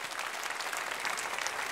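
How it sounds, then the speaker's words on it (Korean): A congregation applauds during a church service, a brief burst of dense clapping from the pews, steady and unaccompanied by speech. "다시 한번 특송해 주신 분들에게 우리 감사의 박수를 드리겠습니다."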